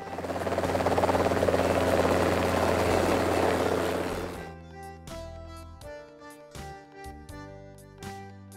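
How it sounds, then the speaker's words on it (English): A Sikorsky VH-60N helicopter roars loudly with dense, steady rotor noise for about four seconds before dropping off, followed by quieter tonal, rhythmic sounds. "Sikorsky VH-60N."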